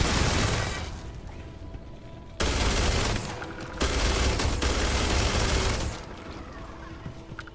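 Rapid automatic gunfire from a weapon in Starfield, loud sustained bursts in several long stretches separated by brief pauses, no talking.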